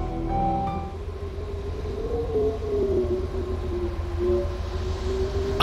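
A siren wails with a slowly rising and falling tone over a steady low rumble, moderately loud and continuous, with no voices.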